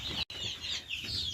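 Ornamental fancy-breed chickens at a farm cluck in short repeated bursts, a close, steady chatter of several birds with a brief gap near the start, and no talk.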